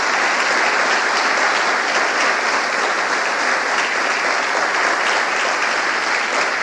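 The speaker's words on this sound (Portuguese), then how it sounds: "Dê uma salva de palmas a Jesus" A church congregation applauds together in a full, steady wash of clapping that holds at a loud, even level from start to finish, with no voices standing out above it.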